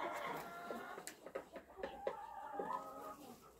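Farmyard chickens cluck in short, uneven bursts close by, with a few sharper squawks and no talk.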